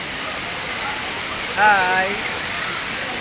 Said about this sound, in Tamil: தண்ணியை பாருங்க, இது தலையில் பட்டுச்சுதான் அடி.